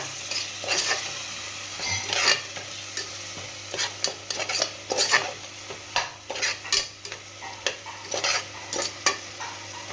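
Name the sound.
sautéing and stirring ingredients in a pan for biryani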